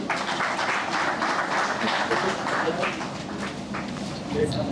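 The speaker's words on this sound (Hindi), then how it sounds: "आप लोग पुनः हमारे अंतर्राष्ट्रीय अध्यक्ष जी के लिए तालियां बजाइए।" An audience at a World Hindu Federation national convention claps continuously, a dense, fairly loud patter of many hands, with voices mixed in.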